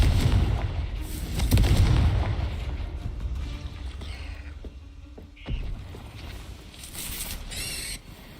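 Confringo fire-blast spells in the Hogwarts Legacy video game, loud booming explosions with a heavy burst near the start and further blasts and crackling spell effects through the rest, mixed with game sounds.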